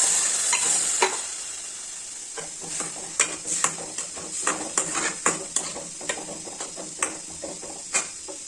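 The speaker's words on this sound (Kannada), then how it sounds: "ಇದು ಕುದೀತಾ ಇದೆ" Bisi bele bath mixture of tomato, salt, tamarind juice and MTR bisi bele powder bubbling in a pot, with a steady sizzling hiss broken by repeated clinks and scrapes of stirring.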